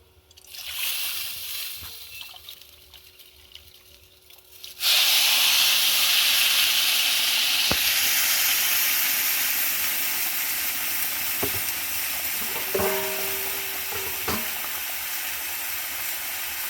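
Water poured into a hot pot for basanti pulao erupts into a loud, steady sizzle and steam hiss that starts abruptly and holds for many seconds, with a few faint metallic clinks from the pot and no talking.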